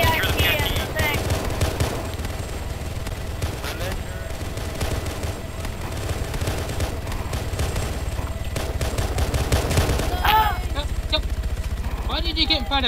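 Heavy gunfire from Arma 3 with the OPTRE mod rattles on without pause, bursts and volleys overlapping at close range, while voices talk over the din.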